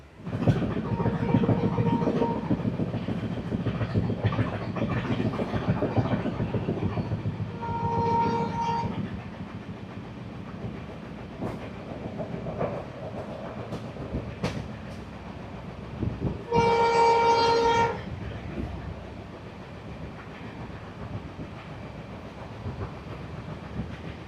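The Kolkata Sairang Express pulls away from Chaparmukh station in Assam, its steady rumble and wheel clatter running throughout, with two sustained horn blasts, one brief and one longer, sounding over the rolling noise.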